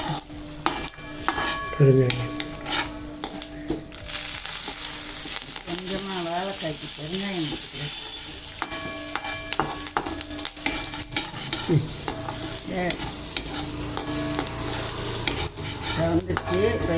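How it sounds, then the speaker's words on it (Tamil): Raw banana and onion frying in a pan with salt, stirred with a utensil; steady sizzle under repeated scraping and clinking strokes, close and continuous, with brief faint talk. "வெங்காயம் வதங்கட்டும்"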